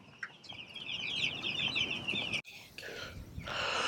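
Pastured meat chickens on a farm cluck and chatter in a busy flock, a close, continuous murmur of calls with a brief break partway through, then louder overlapping clucking.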